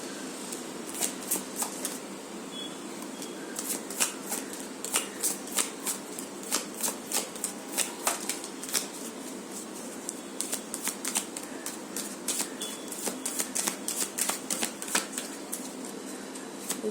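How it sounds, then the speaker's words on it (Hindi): Tarot cards are shuffled by hand, giving a quiet, rapid series of crisp riffling clicks and flutters in repeated bursts for the whole stretch, close up and with no talk. "मैं 3 कार्ड्स लूँगी एज यूजुअल।"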